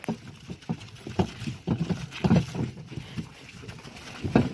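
Hooves clip-clop at an uneven, plodding pace, fairly close, with a few scattered thuds and rattles, as a draft mare slowly pulls a cart uphill.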